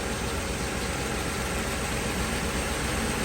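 A car engine idles in a hot repair shop, its fluid fan clutch out of calibration, producing a loud, steady, unbroken roar with no talking.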